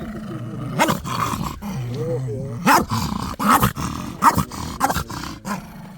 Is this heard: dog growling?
yes